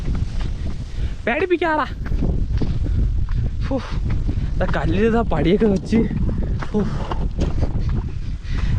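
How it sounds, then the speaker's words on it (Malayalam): Strong wind on a hilltop roars and buffets the microphone with a constant low rumble, while people talk over it. "കാറ്റ് നല്ലതായിട്ട് വീഴുന്നുണ്ട്."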